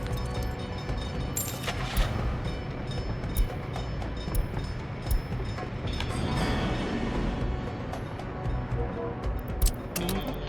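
A locomotive runs continuously in the Workers & Resources simulation game, a steady rumbling rail drone with faint periodic clicks from the wheels, fairly close and unbroken, with no talk over it.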